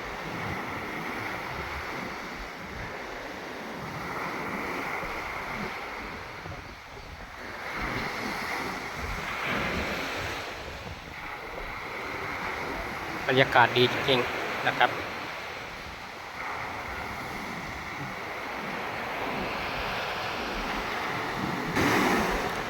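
Steady wash of sea waves rolling onto a sandy beach at Lamai, mixed with wind buffeting the microphone and someone speaking over it, with a brief sharper burst of sound midway.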